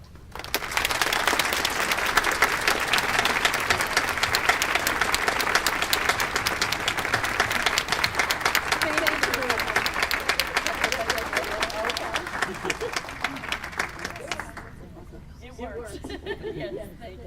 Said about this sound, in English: let's have a round of applause for our four inductees this year